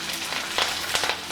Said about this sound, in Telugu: ఎండుమిరపకాయలు మనం లో ఫ్లేమ్లో పెట్టుకుని ఫ్రై చేసుకుందాం.